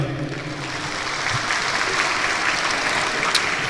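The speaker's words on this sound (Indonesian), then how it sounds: "Oke, berikan aplaus dulu ya." An audience at an Islamic religious lecture claps together in a steady, dense wash of applause that holds for a few seconds, with no speech over it.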